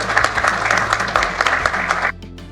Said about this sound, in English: Give it a clap, it's okay.